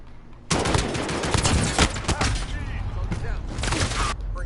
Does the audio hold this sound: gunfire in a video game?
yes